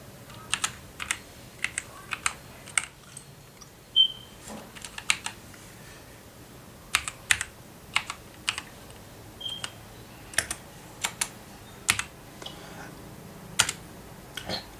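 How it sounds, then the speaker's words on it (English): Computer keyboard typing while entering a command to configure an HC-05 Bluetooth module for an Arduino, with irregular clusters of sharp, close key clicks separated by short pauses, alone in a quiet room. "Now we can change the name by typing in another command like this."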